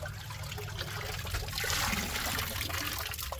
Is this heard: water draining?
yes